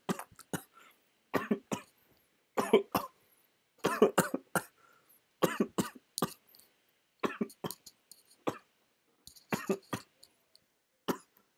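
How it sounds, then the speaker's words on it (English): A person coughs in repeated harsh bursts, close and loud, in irregular clusters with short quiet gaps over more than ten seconds, some throat clearing mixed in. "Be prepared for me to cough for a while."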